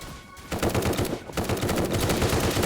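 Rapid automatic gunfire from a weapon in a Squid Game video game, dense continuous bursts of loud shots filling the whole stretch after a brief quieter opening.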